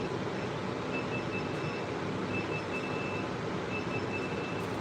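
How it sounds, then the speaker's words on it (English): Faint, evenly spaced electronic beeps repeat over a steady broadband hum in a grow tent fitted with a humidity detector, the tones thin and high above the drone. "Pardon the beeping."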